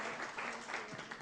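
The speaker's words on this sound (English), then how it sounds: "Come on, give her a round of applause" A small lunchtime audience gives a quick round of applause, a soft, brief patter of clapping heard from a distance in the room.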